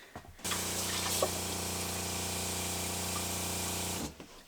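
Cold water from a kitchen tap runs steadily over homemade butter in a bowl, a sustained hissing spray that starts abruptly, holds for several seconds and then cuts off.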